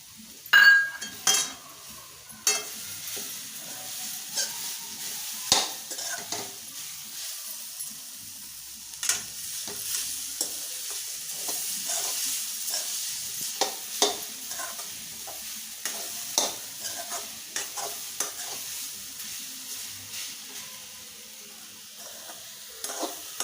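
Jaggery melting in a pan while being stirred for a laddu filling: steady scraping and stirring strokes with soft sizzling and occasional clinks of a spoon against the pan, close and alone without talk.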